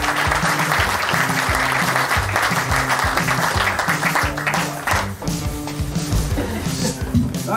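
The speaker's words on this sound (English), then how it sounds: "Round of applause." An audience gives a loud, steady round of applause welcoming speakers onto the stage at a live podcast event in Walthamstow, with music playing underneath throughout.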